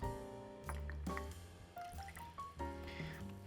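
Citrus juice and sweetener being measured out for a gin cocktail, with short liquid trickles and drips into a jigger or glass, quiet and close, broken by a couple of soft clinks.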